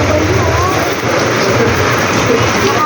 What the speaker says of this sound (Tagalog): Ayun, umulan na.